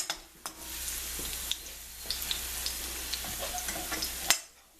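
Garlic fries in a pan over a high flame with a steady, moderate sizzle, stirred now and then with small clicks and taps of a utensil, then stopping abruptly.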